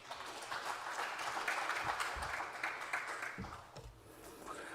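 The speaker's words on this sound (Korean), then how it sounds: "나오실 박수로 맞아주시길 바랍니다" At a church vision proclamation ceremony, an audience claps to welcome an elder to the stage, a faint, even patter of many hands from across the hall, with a few louder thumps.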